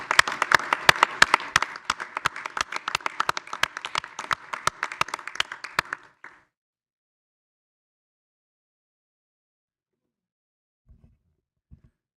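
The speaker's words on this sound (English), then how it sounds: "Maybe a round of applause for all our public servants." A village board meeting audience claps for public servants: a modest room of distinct, individual hand claps for about six seconds, then abrupt silence with a couple of faint thumps later.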